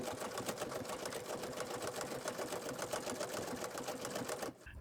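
Sewing machine stitching wool appliqué parrot claws with pattern stitch 136, a fast, even mechanical whirring rattle of rapid needle strokes, close and continuous, stopping abruptly near the end.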